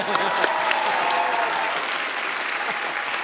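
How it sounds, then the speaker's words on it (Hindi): Loud, sustained applause from a large studio audience at a TV comedy show, dense clapping that carries on throughout with a faint murmur of crowd noise beneath. "इस बात के लिए जोरदार तालियां।"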